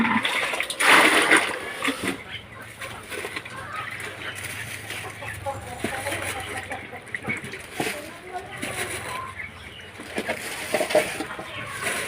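Water is poured and splashed over frozen fish outdoors in a village where dried fish is being made, with intermittent splashes and trickles. People talk throughout, and chickens cluck nearby.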